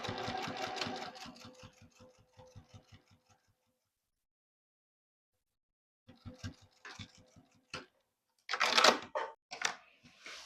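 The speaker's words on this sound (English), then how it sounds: "I'm going to start from the bottom and stitch right up to the top, and I'm back stitching at both ends." A sewing machine stitches a vertical line on a purse pocket, with a rapid steady run of mechanical clatter that slows and stops, then short bursts of stitching and handling noises after a pause.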